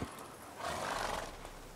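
Roach, a horse in The Witcher 3, gives a short neigh along with hoof movement, a brief close burst over faint ambient background.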